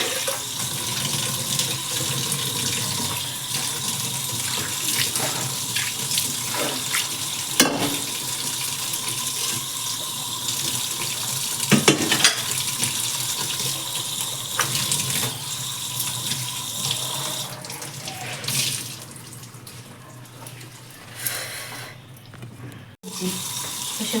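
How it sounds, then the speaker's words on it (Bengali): Vegetables, including cucumbers, are washed under a running kitchen tap, the water splashing in a steady, close rush with faint clatter. "তো সেগুলো ধোয়া হয়নি, একটু ধুয়ে নিলাম।"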